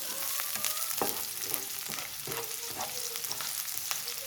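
Garlic frying in a pan for a Filipino fish dish, a steady dense sizzle with occasional scrapes and stirring clinks throughout, close and alone with no talk.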